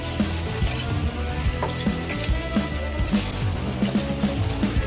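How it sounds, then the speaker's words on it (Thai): Red curry paste stir-fried in coconut milk over medium heat, a constant close sizzle with repeated spatula scrapes and knocks against the pan in an uneven rhythm. "ผัดให้พริกแกงแตกมันเลยนะครับ"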